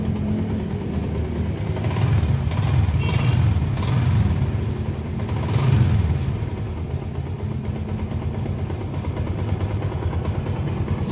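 Yamaha Sniper 150 motorcycle engine idling steadily in a workshop, with the battery unplugged and an Error 46 fault, a close, continuous low rumble holding level throughout without talk.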